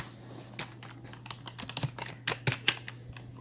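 Typing on a computer keyboard, a run of quick, uneven key clicks with a few louder taps, close and fairly quiet, with no talking.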